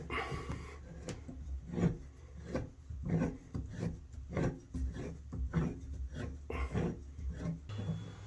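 A hand saw cuts through a bath spout pipe during a spigot repair, with rhythmic back-and-forth rasping strokes repeating close up at a steady pace and no talk.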